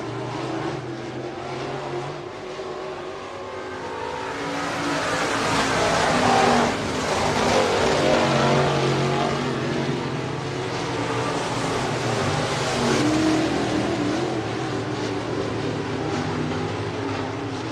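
Modified and sport compact race cars roar around Buena Vista Raceway, a loud sustained engine drone that swells as the pack passes close, then holds steady with distant track ambience.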